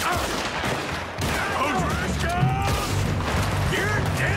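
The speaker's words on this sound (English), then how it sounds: "Okay, they're shooting us." Gunfire from the video game Red Dead Redemption 2: a few scattered shots and impacts mixed with in-game sound effects, partly under a talking voice.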